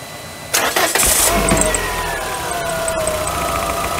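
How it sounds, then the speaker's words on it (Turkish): A car engine cranks briefly and catches after coolant is topped up during radiator fan work, then settles into a steady, close idle with a rising whine, with no one talking. "arabamızı çalıştıralım"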